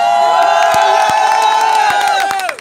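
A live crowd at a music festival concert gives a sustained, loud cheer with high whoops and shouting voices held together, a few sharp claps breaking through before it fades out at the end.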